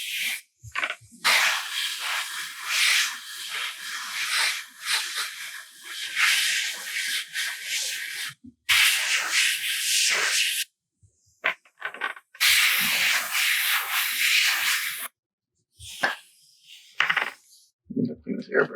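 Black base coat airbrushed onto a quarter-scale custom Spiderman figure: bursts of close, steady airy hiss, stopping and restarting in several passes of a few seconds each, with short quiet gaps and light handling clicks between.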